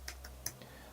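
A few separate key clicks on a computer keyboard as a folder path is typed into a Mac Finder's Go To Folder box, close and quiet, with pauses between strokes.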